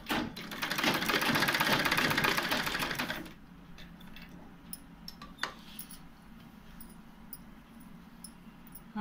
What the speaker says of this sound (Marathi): शिवण करून लेस लावत जायचे।